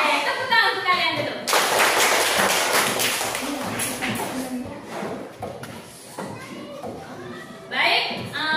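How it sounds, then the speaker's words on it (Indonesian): Children in a classroom clap their hands together in a loud, dense burst lasting about three seconds, with a teacher's voice heard before and after. "Oke, tepuk tangan untuk kalian dulu."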